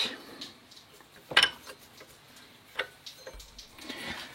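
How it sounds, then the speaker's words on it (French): A wrench works loose the nut on a Solex 3800 metal roller clamped in wooden vise jaws, giving a sharp metallic clink, then scattered light ticks and scrapes of tool on metal, close and fairly quiet, with no talking. "utiliser la clé qui va bien pour dévisser l'écrou du galet"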